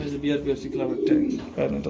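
Low, throaty pigeon cooing close by at a pigeon farm, repeated in soft rolling bursts, with someone talking over and between the calls.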